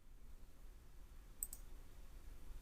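A single faint, crisp mouse click in a quiet room, short and isolated against low background hum.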